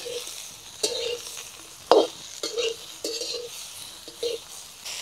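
Okra, onion and ginger are stir-fried in a pan on a village wood-burning stove for a curd onion okra dish. A steady sizzle runs underneath as a spatula scrapes and clacks against the pan in irregular strokes, close by.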